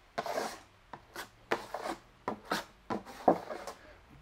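A trowel skims Venetian plaster across a primed board in short scraping strokes, about a dozen quick rasping swipes in an uneven rhythm, close and soft with no talk.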